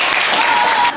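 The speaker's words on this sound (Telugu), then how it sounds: "ఈ పిల్లలందరికీ కూడా ఒకసారి క్లాప్స్ కొట్టండి." An audience claps for a group of child dancers at a dance event in Machilipatnam, producing a loud, close, steady burst of applause for about a second.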